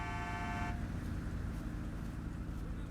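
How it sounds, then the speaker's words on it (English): A car horn in a police roleplay game blares a steady, loud tone for under a second, then cuts off, leaving a low rumble of traffic and engine noise. "Sir, stop honking the horn."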